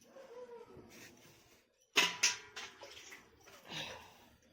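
Ten peeled garlic cloves are rinsed in water in a home kitchen: faint handling and splashing, with a couple of sharper wet splashes near the middle.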